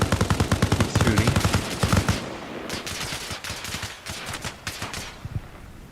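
Rapid automatic gunfire in a multiplayer shooting match, dense bursts of loud close shots at first, then sparser and slightly more distant single shots and short volleys continuing, with no talking.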